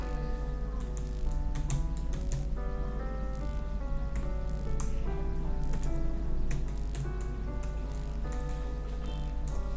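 Computer keyboard typing while HTML headings are written, a steady run of close, light key clicks with no talking.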